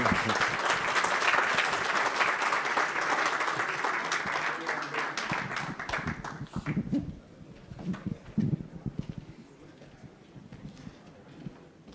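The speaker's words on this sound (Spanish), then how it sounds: "Un aplauso, invito a Nicolás para que reciba su..." Audience applause at a Colombian gastroenterology association conference session on fatty liver: dense, loud clapping fills the hall for about six seconds, then thins out under a murmuring crowd and a few scattered claps.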